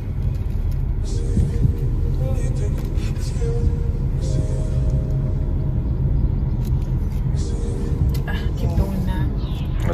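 Car engine rumbling steadily at low speed as a learner driver eases on the gas and brakes into a turn at Floyd Bennett Field, a continuous close in-cabin drone with brief tonal whines, with people talking throughout.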